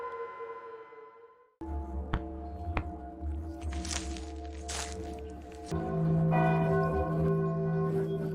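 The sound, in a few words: bells ringing at night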